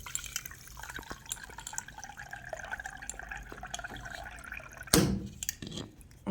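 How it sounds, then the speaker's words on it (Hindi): Water trickles and drips quietly into metal puja vessels set to soak, a faint steady splashing that ends in one louder pour or splash near the end, with no talking. "इसे पानी मतलब लेके इसको अच्छे से भिगो देंगे 5 मिनट के लिए।"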